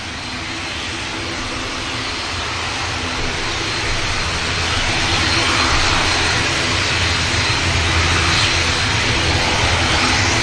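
Virgin Atlantic Airbus A350 jet departing Manchester Airport, a steady broadband engine roar that builds gradually and stays loud and sustained throughout, with no talk over it.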